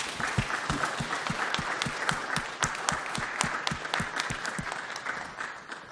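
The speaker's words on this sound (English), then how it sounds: "Give me a round of applause" An audience applauds after a talk, with steady, moderately loud clapping from a modest crowd that tapers slightly toward the end.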